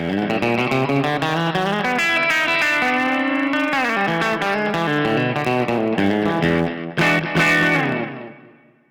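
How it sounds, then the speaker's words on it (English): An electric guitar plays a flowing melodic line with a smooth tone from an Empress Compressor MKII, repeating echoes from an Empress Echosystem delay and a wide Empress reverb wash that fades out at the end. "the delay and reverb are coming courtesy of the brand new Empress Echo system and their new reverb pedal"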